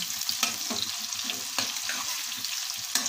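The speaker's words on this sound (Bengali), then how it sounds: "এবার ভালো করে নাড়াচাড়া করে মশলাটাকে ভাজা ভাজা করে নিতে হবে" A ground spice paste of chilli, dried chilli, garlic, ginger, pepper, cumin, tomato and coriander fries in a pan with a soft, steady sizzle, broken by repeated scraping strokes of a spoon stirring it.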